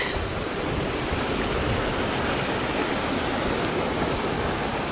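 A lovely stream on the Cumbria Way, its water rushing in a steady, close, broadband wash that fills the whole clip with no voices.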